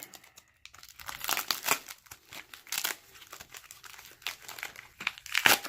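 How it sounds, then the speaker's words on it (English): Packing tape is ripped off a taped-up package, heard as close, loud crinkling and tearing in uneven bursts and pulls. "Go ahead and rip this tape off."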